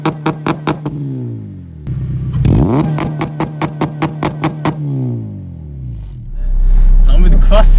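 A 320 bhp supercharged Honda Civic Type R revs hard in a rapid series of sharp, loud throttle blips, then its engine note climbs and falls before the car pulls away with a rising roar close by.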